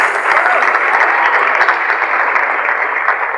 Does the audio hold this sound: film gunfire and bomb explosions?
no